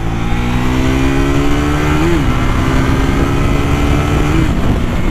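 Triumph Thruxton 400 motorcycle engine running steadily with a brief rise and fall in pitch as it revs, loud and close, continuous throughout with no talking.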